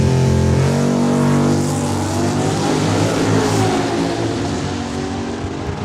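A 2008 Corvette drag racing at Saskatchewan International Raceway in Saskatoon roars loud and sustained at high revs, the engine note holding steady and then easing slightly as it pulls away.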